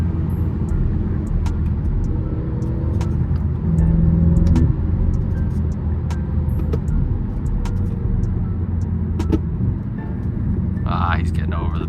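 Sharp exhaust pops and crackles from a BMW truck or AMG C63 in traffic, scattered across a steady low road rumble with wind buffeting the microphone.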